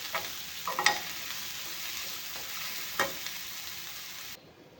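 Stuffing for stuffed bitter gourd frying in a pan, with a soft steady sizzle and a few spoon scrapes and clinks before the sound cuts off abruptly.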